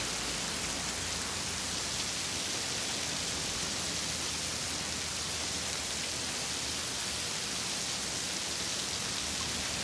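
Heavy rain pours steadily and densely, a loud, uniform hiss of drops on surfaces filling the scene from start to finish with no voices.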